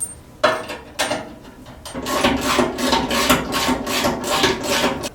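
Metal file rasping against a part on a Triumph Spitfire 1500 while fitting hood shocks, a few separate strokes at first then steady rapid back-and-forth strokes, close up.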